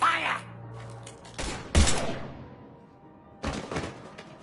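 A few separate gunshot bursts erupt after a command to open fire in the sci-fi video game Mass Effect 3, with sharp broadband cracks around the midpoint and near the end and quieter shuffling between them.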